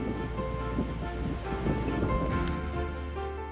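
Sea waves wash and churn steadily off the coast of Samdal-ri, Jeju, while a haenyeo dives in the rough water, a continuous broadband roar with some wind buffeting and no voices.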